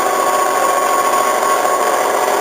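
An electric mixer whirs steadily through lemon blueberry muffin batter with flour and milk, a continuous close motor drone with no pauses.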